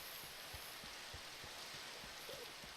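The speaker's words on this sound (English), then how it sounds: "Hope that rain is not annoying you" Steady rainfall in the video game Minecraft, a soft continuous patter with faint rhythmic low thumps, quiet and without any voices.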